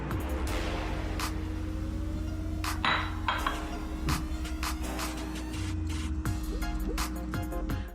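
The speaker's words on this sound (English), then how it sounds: "We're going to remove the lid and add on some fresh cilantro and some fried onions." Pot lid lifted off a biryani and fresh cilantro and fried onions added, a few sharp metallic clinks and clanks of cookware over a steady background hum, close and without speech.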